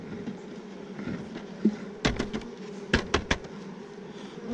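Heavy honeybees shaken off a hive frame while combining hives: a steady buzzing bed broken by several sharp thuds, clustered near the end, as the bees drop.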